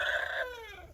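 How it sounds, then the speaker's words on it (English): A young rooster gives an odd, still-developing crow that sounds partly like a pigeon's coo, one strained call that holds then trails off and breaks, near and fairly loud. "He started out a few days ago sounding like a pigeon, and now he's starting to actually sound like a rooster."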